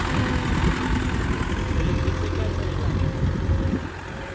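Heavy Indian tractor, a 510 model, with its engine running steadily in a dense low rumble throughout, slightly easing off near the end.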